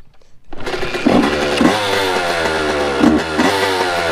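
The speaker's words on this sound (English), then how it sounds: "I'm gonna jump on my bike here and let her rip" A two-stroke motorbike engine kicks into life after a short silence and revs loudly and raggedly up close, with several sharp throttle blips over a steady buzzing idle.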